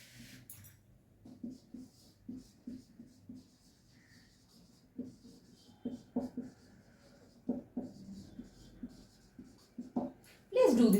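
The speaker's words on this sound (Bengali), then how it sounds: "নিচে লিখছি" Short strokes of writing on a board during an English grammar lesson come as a string of quiet, close taps and scratches in bursts, with a teacher's voice talking between and over them.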